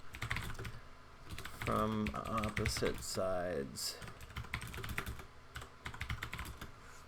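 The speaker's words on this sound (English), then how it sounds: "if I'm typing it so you can see it" Computer keyboard typing during a tabletop solo role-playing session, a steady patter of quick keystrokes running under a person talking throughout.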